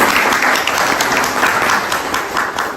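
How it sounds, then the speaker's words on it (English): A room full of guests at a book launch breaks into applause for the organiser, a dense, even roar of many hands clapping together, loud and continuous throughout. "So a round of applause for Asif."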